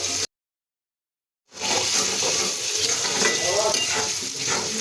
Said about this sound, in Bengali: রসুনগুলো ভালো করে ভেজে নেব।